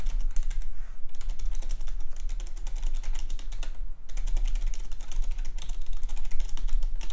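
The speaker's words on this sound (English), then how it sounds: "we're going to do that when I hit the space key." Rapid clicking keystrokes on a computer keyboard run steadily, with one brief pause near the middle, close and fairly loud with no talking.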